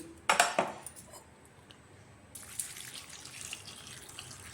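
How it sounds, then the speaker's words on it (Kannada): A short clatter of a metal vessel, then quiet, followed by a soft steady trickle of water running into a bowl of sprouted grains. "ಇದಕ್ಕೂ ಸ್ವಲ್ಪ ನೀರು ಹಾಕ್ತೀನಿ"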